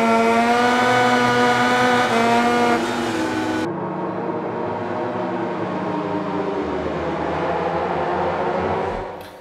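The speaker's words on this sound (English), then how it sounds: "one of the so-called easiest challenges with Valentino Rossi when he was riding for Honda back in the day" A Honda racing motorcycle screams at high revs around Mugello in the MotoGP 2020 video game. The loud engine whine drops abruptly with a gear change and settles into a lower, steady roar before cutting off.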